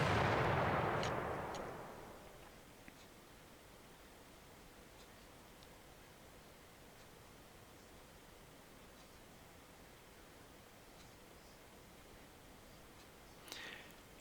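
Artillery fire in the World War II strategy game Panzer Campaigns Bulge '44: one heavy, booming blast opens, then fades into a long stretch of faint hiss, with a brief sharp crack near the end.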